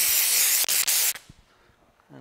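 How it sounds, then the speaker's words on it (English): Steam hisses onto paint protection film on a Porsche side mirror in loud, close bursts with two brief breaks, stopping after about a second; a voice speaks at the very end. "hit it with a little bit of steam"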